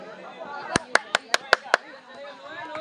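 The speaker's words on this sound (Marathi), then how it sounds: "कृपया प्रेक्षकांनी त्यांचे टाळ्या स्वागत करायचं आहे." Six sharp, evenly spaced claps ring out close by as spectators at a village cricket match applaud a team owner bowling, with a voice talking faintly underneath.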